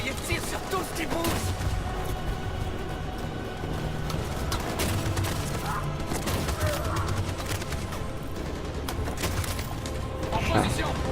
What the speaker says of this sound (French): Cette saloperie de mitraillette tire sur tout ce qui bouge.